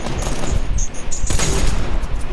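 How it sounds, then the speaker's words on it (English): Gunfire in a video game, with dense, continuous bursts of automatic shots, loud and close, mixed with a few sharp high pings and impacts throughout. "We shooting at each other?"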